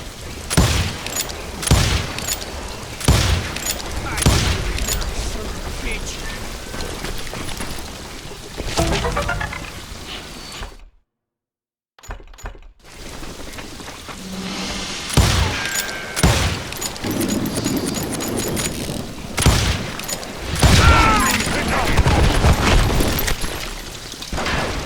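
Gunfire in the Western shooter game Call of Juarez Gunslinger: repeated loud shots and booming bursts over music and effects, with a brief silent gap midway before the shooting resumes.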